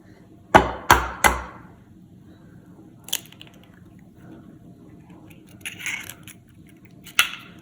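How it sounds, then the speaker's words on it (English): A second egg is cracked into churro dough in a kitchen bowl. Three quick, crisp taps open it, followed by faint wet sounds and a few soft clinks, and no one speaks. "Now we're just going to add our second egg."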